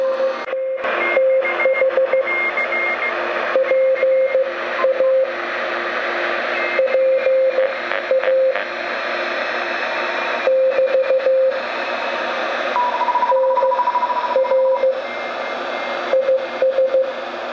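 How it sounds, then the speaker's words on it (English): An AN/GRC-9 military backpack radio receives crowded shortwave signals: hissing static carries many overlapping Morse code beeps in bursts and a steady whine, continuous and fairly loud for the whole stretch. "You can hear a lot of stations in the pass band."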